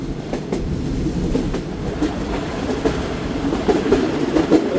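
Passenger train running on tracks, a steady rumble with rhythmic clickety-clack of wheels over rail joints, fairly loud and close throughout.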